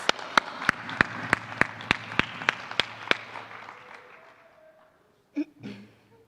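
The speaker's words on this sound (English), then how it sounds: "A big round of applause for the General Education and Sciences" Sparse applause rises at a graduation ceremony, a handful of sharp, separate claps standing out over a softer crowd patter that fades out, then a couple of brief thumps follow near the end.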